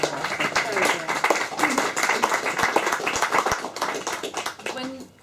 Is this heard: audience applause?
yes